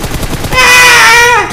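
Gunfire in PUBG Mobile strikes a player: a rapid burst of sharp in-game shots, loud and close, swelling into a sustained ringing whine that fades out at the end.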